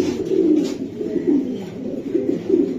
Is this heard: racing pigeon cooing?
yes